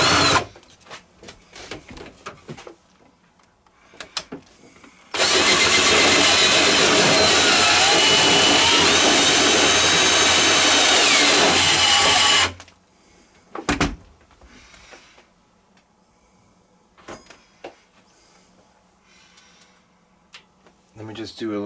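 A power drill running in reverse scores a hole into the gel coat of an RC boat hull, a loud steady whirring grind that holds for about seven seconds, bracketed by quieter handling noises and clicks before and after.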